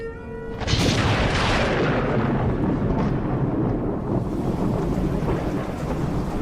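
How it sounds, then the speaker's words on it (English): A thunderstorm rolls in with a loud, sustained crack and rumble of thunder that spreads into a steady wash of heavy rain, continuous and close throughout with no voices. "Across the cosmos, I bring with me the storm."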